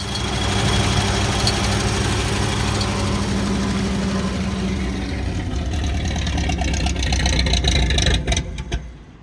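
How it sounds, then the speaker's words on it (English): A pickup truck engine turns over with a loud, steady rumbling drone that continues for several seconds, then falters into a few uneven bursts and cuts off near the end. "I'm gonna let this thing crank over for a bit"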